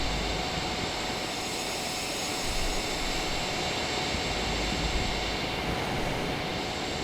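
A DeHavilland Vampire FB 5 jet in Microsoft Flight Simulator gives a steady, loud broadband roar that drones on without a break as the landing gear comes down on approach.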